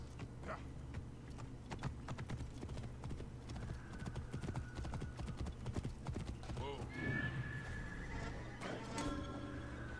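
Hooves clip-clop steadily as a horse gallops along in Assassin's Creed Origins, with a whinny rising near the end over continuous game ambience and a voice talking throughout.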